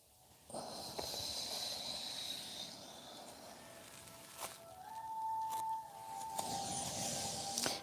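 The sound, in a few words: breathing through the nose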